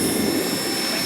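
Blade 330s RC helicopter flying outdoors in cold weather, a steady whining rotor and motor drone held at a constant level for a brief moment, with no talk.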